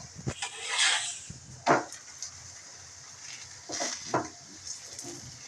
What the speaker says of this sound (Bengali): আমি এক এক করে সবগুলো ভেজে ফিরে আসছি